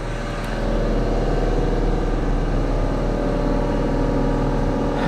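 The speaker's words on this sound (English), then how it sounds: "We'll be rolling that cab away, or rolling the tractor away from the cab." A tractor engine runs steadily with a low, continuous drone, rising slightly in loudness early on as the tractor pulls away from its detached cab during a cab removal.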